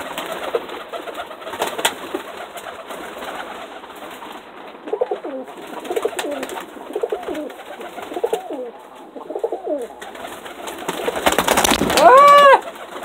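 Pigeons coo in a steady series of soft, throaty calls up close in a coop, with a brief flurry near the end as a bird moves, and no one speaks over them.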